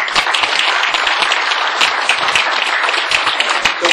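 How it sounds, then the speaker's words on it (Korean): Applause from an audience of association members at a 2014 InnoBiz New Year gathering, a dense, steady crowd clapping sustained throughout at close range with no pauses. "같은 생각이면 박수 한번 쳐주세요"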